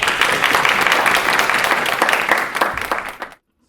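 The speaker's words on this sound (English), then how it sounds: "let's give all our panelists a round of applause" An audience at an entrepreneur business panel bursts into steady, sustained applause for the panelists, with dense clapping that holds for several seconds before cutting off abruptly.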